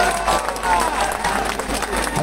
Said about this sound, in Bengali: সকলের জন্য একটা হাততালি দেই